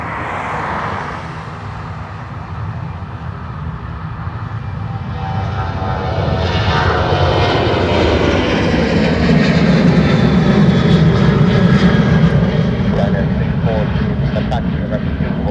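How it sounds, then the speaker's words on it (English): A Ryanair jet bound for Warsaw at Dublin Airport, its engine roar swelling from a low rumble to a loud sustained drone, with voices in the background. "Ryanair to Warsaw next."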